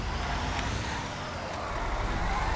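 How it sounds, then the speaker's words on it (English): A semi truck on big mud tires drifting in GTA 5, a steady loud engine roar and rumbling tire noise running unbroken throughout, close and dense with no pauses. "Drifting a semi."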